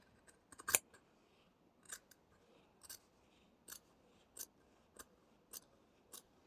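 Scissors snip through excess fabric while framing a sewing project, a quick cluster of cuts followed by steady single snips at roughly even intervals, close and crisp with no talking.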